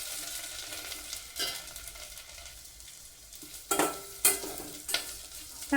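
Dried red chillies temper in hot oil for tomato rasam, giving a soft, steady sizzle under intermittent scraping and clinking stir strokes, with a few sharper knocks near the end.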